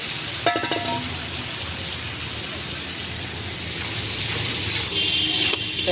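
Ash gourd goes into hot oil with salt and turmeric for a Bengali curry with raw shrimp and is stirred. A loud, continuous frying sizzle fills the pan, with a few clinks of the utensil early on.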